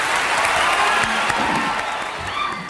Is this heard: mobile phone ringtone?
no